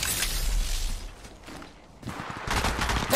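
Gunfire from the mobile battle royale game Apex Legends Mobile crackles in dense rapid bursts, with a brief lull in the middle before another burst of shooting.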